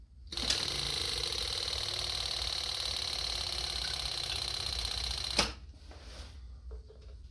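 Old electric fuel pump on a 1984 Honda Shadow 700 motorcycle running steadily with a fast buzzing, ticking whir, then clicking off abruptly, leaving faint rattles.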